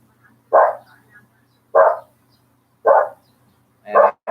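A pet dog barks four times at a steady pace, each bark short, loud and close, with quiet pauses between them.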